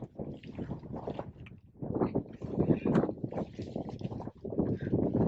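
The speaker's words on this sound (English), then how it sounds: "Probably can't even hear me because of the wind." Wind buffeting a snowy Colorado 14er summit near Mt. Shavano and Tabeguache, gusting in heavy low rumbling bursts against the microphone, rising and falling unevenly with a brief lull, with no talking.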